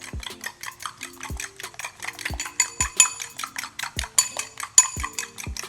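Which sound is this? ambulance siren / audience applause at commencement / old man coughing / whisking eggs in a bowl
whisking eggs in a bowl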